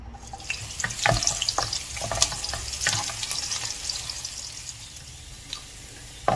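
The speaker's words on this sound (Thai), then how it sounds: "พอน้ำมันร้อนแล้วเราก็ใส่หอมลงไปเจียวนะคะ" Steady crackling sizzle of shallots frying in hot oil over medium heat, with scattered pops and occasional utensil clinks, fairly close and continuous.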